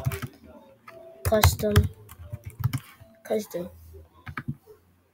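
Keys clatter on a Chromebook keyboard in quick bursts of clicks, close and clear, alternating with a person speaking.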